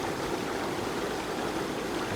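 A hidden waterfall in the Laos jungle pours in a continuous broadband rush of falling water, even and unbroken, with no voices.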